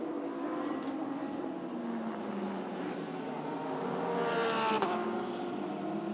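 Number 88 Mercedes GT race car pulling out of the pit lane at Buriram during a GT World Challenge Asia race, an engine drone building and revving higher toward the end, moderately distant with no speech.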